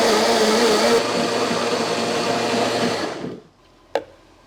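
A blender purees a spinach soufflé mixture with nutritional yeast, a loud steady whirring that runs for about three seconds before winding down, followed by a short sharp knock.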